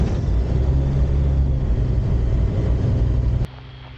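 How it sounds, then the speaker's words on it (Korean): A light aircraft's engine roars close and steady with a deep, even drone, then abruptly drops to a quieter idle near the end. "자, 시동 걸겠습니다"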